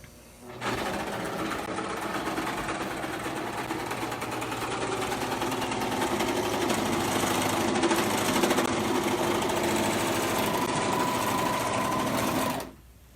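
An Elna 864air serger stitching through layers of fabric, a loud steady mechanical whir that starts abruptly, runs continuously for about twelve seconds at close range, then stops.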